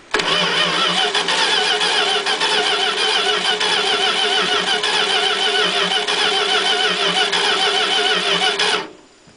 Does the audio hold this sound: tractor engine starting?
yes